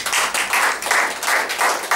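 A church congregation claps together in a quick, steady rhythm, the many hands landing in crisp unison beats close by, with no voices heard.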